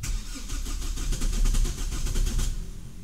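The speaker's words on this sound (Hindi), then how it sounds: "गाड़ी स्टार्ट नहीं हुई है, 10 डिग्री मिनिमम टेम्परेचर है उस पर।" A Mahindra XUV300 is cranked on a cold morning of about 10 degrees and fails to start: a loud, rapid, rhythmic churning of the starter turning the engine over for about two and a half seconds, then stopping without catching.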